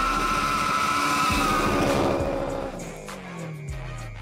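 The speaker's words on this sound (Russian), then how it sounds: "рев моторов, визг шин" Race car tires screech in a long skid as the engine roars loudly, then the engine pitch falls away and the roar fades into a quieter, receding drone.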